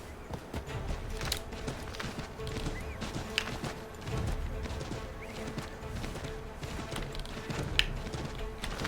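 Horse hooves clip-clop at a steady walking pace in the Assassin's Creed III video game, moderately close and mixed into busy game ambience with occasional sharper taps.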